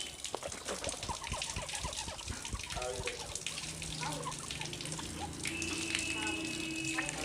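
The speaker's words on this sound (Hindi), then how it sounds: "3 मरतबा कुल्ली करें।" Tap water runs and splashes steadily while someone rinses their mouth during wudu ablution, with close gushing and small drips throughout and a faint voice in the background.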